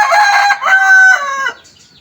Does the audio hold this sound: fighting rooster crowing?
yes